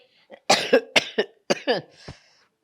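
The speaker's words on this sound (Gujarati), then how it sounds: "બોલતા બોલતા ઉધરસ આવી જાય." A woman coughs several times in quick succession while speaking, sharp close bursts spaced about half a second apart, then trailing off.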